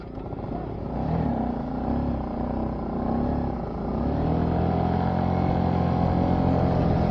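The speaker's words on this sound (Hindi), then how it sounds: "तो फिर से बाइक स्टार्ट हो गई और फिर से बंद, क्या हो रहा है यहाँ पे।" A Yamaha R15 motorcycle with its fuel running out fires up and runs with a loud, close, rough engine rumble that swells slightly partway through and keeps going to the end.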